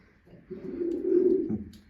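A single soft, low pigeon coo swells and fades, close but quiet against a near-silent background.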